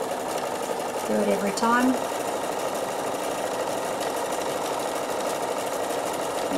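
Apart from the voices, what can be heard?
Bernina sewing machine stitching cord onto edge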